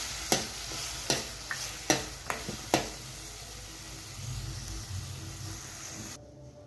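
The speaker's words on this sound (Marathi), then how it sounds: "आणि ह्याला पण मस्त तेल सुटेपर्यंत परतून घेते." Eggplant masala sautés in oil in a pan with a soft, continuous sizzle, broken early on by several sharp scraping stirs of a spoon.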